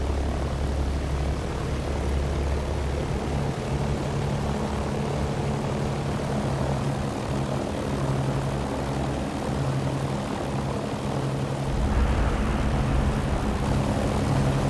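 Steady, loud roar of a Hughes XF-11 propeller aircraft engine in a flight simulator, droning continuously for the takeoff run with a slight change in pitch and intensity near the end, no talking.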